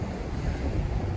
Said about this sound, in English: Slightly windy today, there are gusts of wind, so hopefully that won't affect the sound that much.